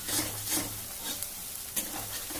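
Katla fish kalia masala frying in oil in a Bengali fish curry pan, with a steady soft sizzle and occasional stirring scrapes, close and moderately quiet, no talking.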